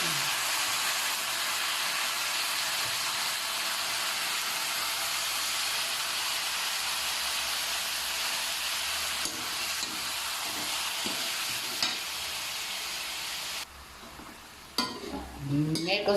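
Chicken pieces sizzling and frying in a pan while being stirred for chicken ginataan, a steady loud hiss that holds throughout, with scraping stirs near the end.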